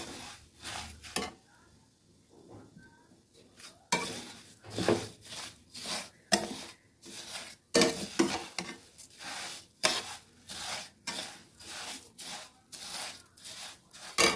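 Fried vermicelli (semai) mixed with sugar is stirred in a pan with a spoon, giving repeated scraping, rubbing strokes in an uneven rhythm, close and moderately quiet, with a soft sizzle underneath.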